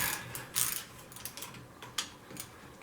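A hand ratchet works on bolts of a Honda 250 Big Red, giving quiet, close clicking bursts at irregular intervals with brief pauses between strokes.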